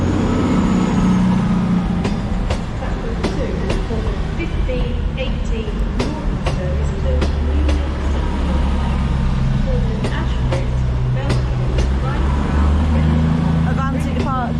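A CrossCountry train bound for Bristol Temple Meads at Manchester Piccadilly, its steady engine rumble and rolling rail noise filling the station throughout, with sharp clicks and station chatter over it.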